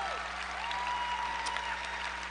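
Steady, moderately quiet crowd clapping fills a large conference hall, with a faint sustained tone running beneath it.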